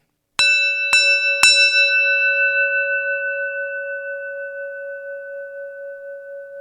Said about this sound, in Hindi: ये तिब्बतन बैल की आवाज